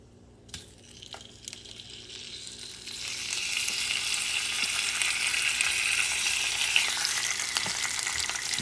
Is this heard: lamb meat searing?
yes